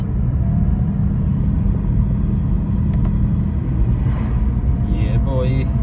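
A BMW 335d diesel with pedal shifters runs at a steady, loud rumble throughout, with a brief change in tone toward the end as it is shifted.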